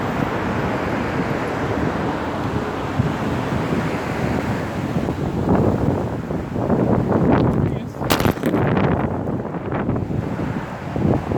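Wind buffeting a microphone outdoors, a constant loud rumbling roar with gusty swells throughout, with a person talking under the blustery noise in the second half.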